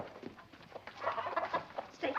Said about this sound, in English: Robbie, you want to see the chickens you left, children?